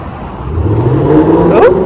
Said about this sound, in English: Car's loud.